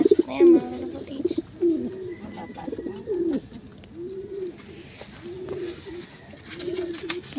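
Pigeons coo repeatedly at close range in low, rolling phrases, with faint chirps and light background noise around them.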